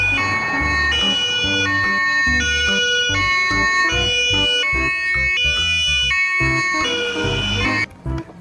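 A toy ambulance siren plays a loud, steady electronic wail that alternates between tones, close and continuous, cutting off near the end.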